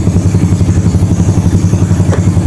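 A motorcycle engine warming up idles with a steady, rhythmic low chugging pulse, close and loud, with no one talking.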